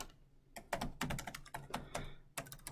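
Typing on a computer keyboard, quick irregular key taps in short bursts, close and fairly quiet, with no talk.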